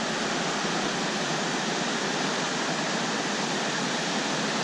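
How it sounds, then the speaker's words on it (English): Rapids on the Housatonic River rushing steadily as a dense, close, unbroken roar of white water, loud and alone with no voices. "Got some nice little rapids there."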